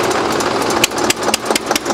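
Eicher 242 and Mahindra 275 DI tractors straining against each other in a tug-of-war contest on a dirt field; a steady engine drone runs throughout with sharp clicks and bumps over it, and no talk.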